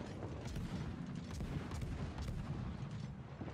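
Naval gunfire in World of Warships during a battle involving the Bismarck, Kronstadt and Neptune: dense overlapping booms and rumbling salvos, steady and loud throughout with no gaps.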